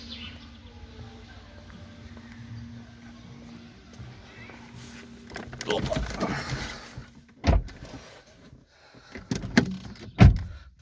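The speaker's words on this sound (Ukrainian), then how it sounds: "дверцята закриваються так тихесенько." A 2006 Kia Ceed car door shuts with a soft thud, followed by a couple more muted knocks and handling sounds against a quiet background.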